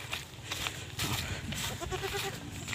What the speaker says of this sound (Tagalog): Kambing natin.